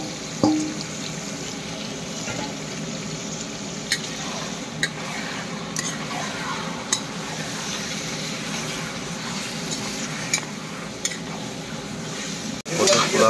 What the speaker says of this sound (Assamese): মাংসটো দিলো আৰু মাংসটো ভাজি লওঁ